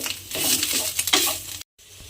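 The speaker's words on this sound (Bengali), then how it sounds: "দিয়ে এইবারে একটু নাড়াচাড়া করে নেব চাল কুমড়োটাকে।" Ash gourd frying in ghee is stirred in a pan, with scraping strokes over a light sizzle, close and fairly loud, then a brief cut to silence before the sizzle resumes.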